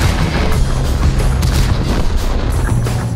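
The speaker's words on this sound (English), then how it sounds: "Fire Ant ignores the incoming fire and heads for the capture zone across open ground" Tank cannon fire and battle rumble in World of Tanks, a dense continuous barrage of booms and heavy low-end roar, loud and unbroken throughout.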